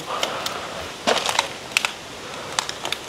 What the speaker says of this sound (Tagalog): Puro bote na, puro basag-basag na ano.